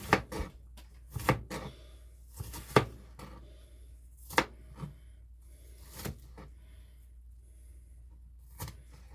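An onion is chopped with a knife on a cutting board: sharp, separate knocks at irregular intervals with quiet gaps between them, heard close and without talk.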